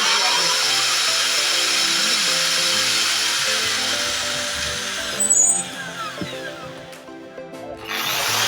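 A HiKOKI drilling machine runs steadily after servicing, a loud, continuous high-pitched motor whine that holds for several seconds, dips and wavers briefly near the end, then picks back up.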